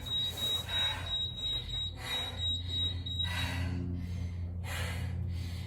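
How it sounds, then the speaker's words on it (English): A workout interval timer sounds a steady high-pitched electronic beep for about three seconds, set against breathy bursts of panting or exhaling that recur through the clip. "I misset my timer."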